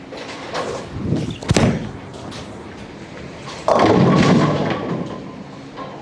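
Two heavy thuds from a Roto Grip Parallax bowling ball, one sharp impact and then a louder, longer rumble as it rolls and strikes, heard nearby in a bowling alley.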